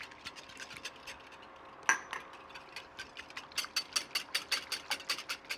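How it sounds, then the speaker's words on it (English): Eggs whisked with lemon juice in a bowl, a quick steady run of light rhythmic clinks and scrapes, soft and close, speeding up toward the end. "I'm going to whisk these guys with the lemon juice"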